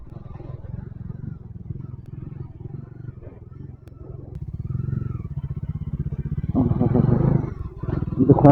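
A 2025 Bajaj Dominar 400 motorcycle engine idling and revving, a throaty pulsing thump that swells louder toward the end, with a voice talking over it.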